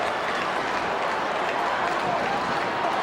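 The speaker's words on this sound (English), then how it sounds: "Listen to the crowd" Stadium crowd at an Australian football match between West Coast Eagles and Geelong roaring and cheering, a dense continuous wall of noise that stays loud and even throughout.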